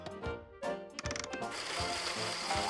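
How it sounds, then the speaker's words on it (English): A kitchen blender starts with a few short pulses and clicks, then runs continuously at full speed on fruit for a smoothie, a loud steady whir filling the second half. "Now we'll just put everything in the blender."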